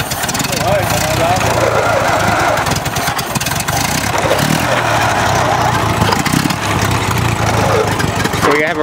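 A Ford Model A doodlebug's engine runs loud and close while driving, a continuous rough, rumbling drone that holds steady throughout.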